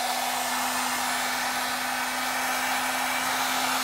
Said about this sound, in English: I'm gonna hit it with the heat gun.